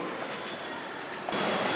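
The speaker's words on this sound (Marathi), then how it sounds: "ट्रेन आली पण पण अगदी वेळेवर." A Mumbai Metro train pulls into the station with a steady, broad rumble that swells slightly near the end, heard alone without voices.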